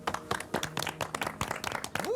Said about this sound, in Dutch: Mag ik een applaus voor Chris Fellows?